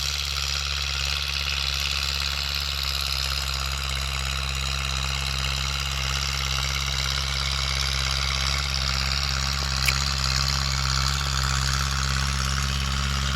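A steady, low engine drone runs without a break, a Kubota L5018 tractor idling at a constant pitch, with a faint click near the end.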